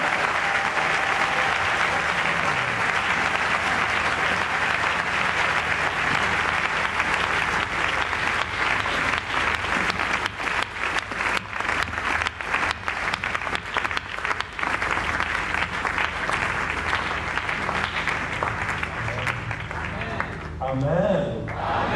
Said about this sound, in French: Recevoir le pasteur Jean-Claude par un acclamation.